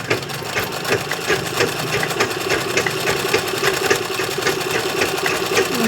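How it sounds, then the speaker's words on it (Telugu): A domestic sewing machine stitches fabric in a steady, rapid mechanical chatter, running continuously and close by with a faint motor hum beneath. "ఇక్కడ నేను స్టిచ్చింగ్ చేస్తున్నాను పట్టుకోమంటే పట్టుకున్నాడు మిషన్లో"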